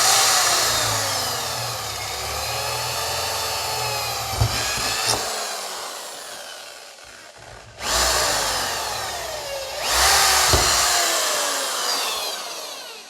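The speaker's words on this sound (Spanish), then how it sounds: "Usamos el taladro y perforamos ahí." Power drill boring a hole while a homemade TDT television antenna is being built, the steady loud whine running for several seconds, cutting out briefly and then starting again.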